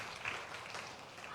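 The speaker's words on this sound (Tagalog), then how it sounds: "Tapos pumalakpak pa rin." Applause from a church congregation: a steady, faint wash of clapping hands that fills the whole short stretch, with no single claps standing out.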